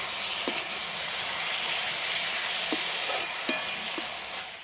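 Roasted okra being stirred into sizzling masala in a pan, a steady close frying hiss with a few soft scrapes and taps of the spoon, no voices.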